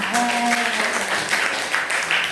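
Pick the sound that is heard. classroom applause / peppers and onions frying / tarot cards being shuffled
classroom applause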